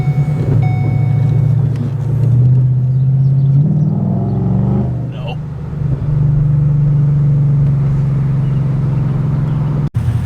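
A car engine idles with a loud, steady low drone in a parking lot and rises briefly in a rev midway, close to the microphone, while people talk over it.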